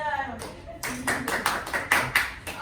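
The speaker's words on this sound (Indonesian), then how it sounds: "Oke, aplaus untuk ini ya" A small group in a classroom claps with a run of distinct, fairly rhythmic hand claps at close range, after a brief voice at the start.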